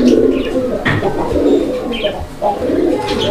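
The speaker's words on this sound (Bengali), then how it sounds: "দর্শক বন্ধুরা কবুতর দেখছেন আপনারা" Pigeons kept for sale cooing close by, repeated throaty rolling coos in an uneven rhythm with a few overlapping calls, loud and clear with no talking.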